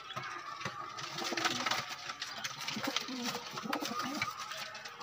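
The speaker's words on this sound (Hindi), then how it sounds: "ये लाल पुट्ठे वाला कबूतर है" Soft cooing of red-rumped pigeons mixed with a busy, rattling background din, faint voices here and there.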